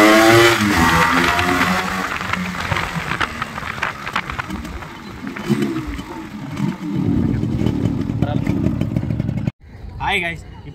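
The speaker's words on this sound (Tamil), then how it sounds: "இதோட பீட் சவுண்டு எப்படி இருக்குன்னு பாருங்கள்." A restored 1999 Yamaha RX 135 two-stroke motorcycle engine runs up close, loud and uneven, its revs rising and falling with a raspy beat. Voices talk over it, and the sound cuts off abruptly near the end.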